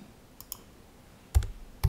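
Typing on a computer keyboard while building an Excel table, a few sparse light key clicks early on, then two sharper, louder key presses near the end, close up with no talk.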